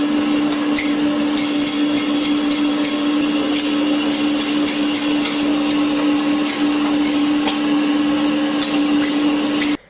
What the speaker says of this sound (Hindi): ये मशीन में लगे ब्लेड्स की मदद से मीट के पीसेस कर रहे हैं।